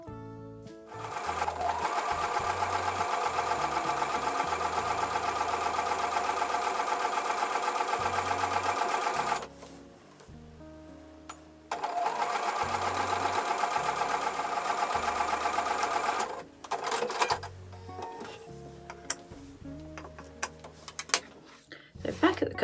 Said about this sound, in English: I'm going to take it back to the sewing machine and I'm going to sew either side